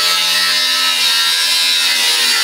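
A power grinder cuts metal parts off a Peterbilt truck, its high, steady whine and hiss continuous and loud for the whole short stretch.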